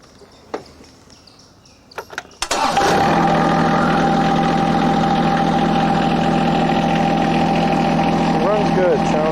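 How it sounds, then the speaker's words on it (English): A John Deere lawn tractor, a 1985 210 or a 2017 X750, cranks after a few clicks and knocks, catches, and settles into a loud steady idle close by. "We'll start her up."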